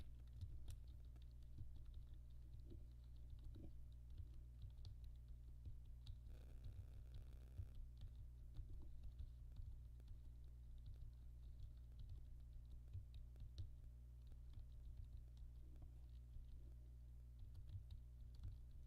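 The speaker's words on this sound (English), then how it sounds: "I'm gonna have to type." Quiet, irregular clicking of keys on a computer keyboard, with bursts of typing over a low constant hum and a brief noisier patch partway through.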